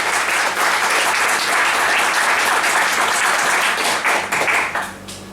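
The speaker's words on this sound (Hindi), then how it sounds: "तो एक बार तालियां तो बजनी चाहिए" Sustained applause from a crowd, steady and full for several seconds before tapering off at the end.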